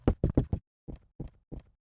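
Knocking from behind a closed door, a quick cluster of four raps followed by three slower, softer knocks, crisp and fairly close with silence between them.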